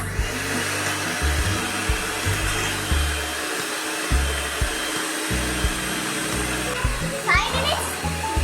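Electric hand mixer whirring steadily as it beats cake batter just after flour goes in, a continuous motor hum with brief stops and restarts, with a voice chattering in the background.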